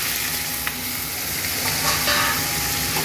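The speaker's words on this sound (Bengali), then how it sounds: "ভাজা হয়ে গেছে, রসুন দিয়ে দিচ্ছি শাকটা" Steady oil sizzle from a frying pan as garlic and cabbage greens fry, continuous and close, with a few faint clinks of stirring and no talking.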